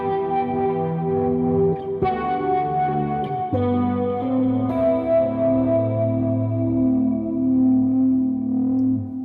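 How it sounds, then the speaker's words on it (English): Electric guitar played through a funk filter with reverb and delay, sustained swelling chords with a few sharp attacks and long echoing tails, loud and clear with no talking. "This is using the funk filter with the reverb and delay."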